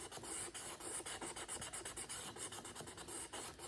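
Sandpaper wrapped on a dowel rubs quickly back and forth along the edge of a travisher blade, making a close, even rasping rhythm of short strokes with no speech.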